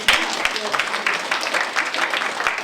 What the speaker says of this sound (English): you children up here should give your parents a huge round of applause